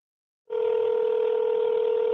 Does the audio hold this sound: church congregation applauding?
no